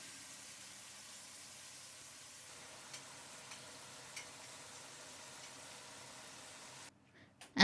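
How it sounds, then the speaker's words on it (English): Steady crackling sizzle of trout frying in hot mustard oil, a constant hiss with occasional pops, fairly quiet, cutting off near the end. "put the fish down and let it sizzle for a bit to get a crispy skin on the bottom"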